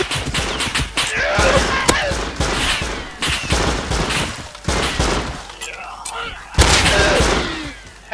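Gunfire in the video game Rust during a team deathmatch, bursts of rapid shots and impacts repeating throughout, loud and close, with a player talking in between.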